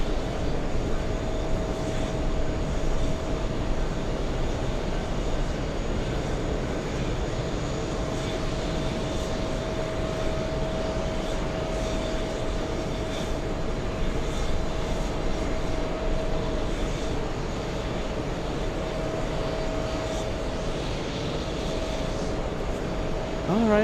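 A big airliner flies at JFK airport, a continuous loud engine drone with a steady hum holding evenly across the whole stretch.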